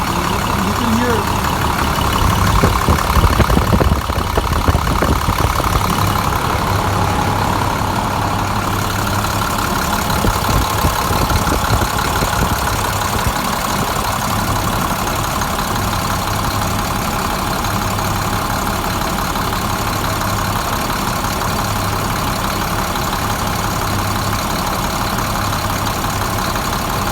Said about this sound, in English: that's the first start of the truck. Right now it's a little shaky.